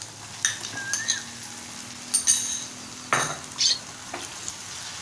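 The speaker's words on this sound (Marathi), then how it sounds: "आता आपण साफ केलेली कोळंबी घालून घेऊया।" Cleaned prawns tip into a softened onion-tomato masala for a spicy Maharashtrian kolambi masala, followed by a few scraping stirs and clinks of a utensil against the pan over a low, steady sizzle.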